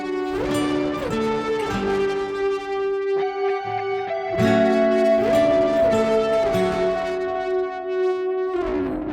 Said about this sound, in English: So altogether, these guitar parts now sound like this.